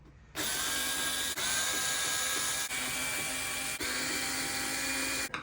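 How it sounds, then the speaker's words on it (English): A power screwdriver drives screws out of a small panel on an HP LaserJet MFP 179fnw printer, running in a steady high whir for about five seconds with brief dips between bursts, close and loud with no talking. "I'll use my screwdriver."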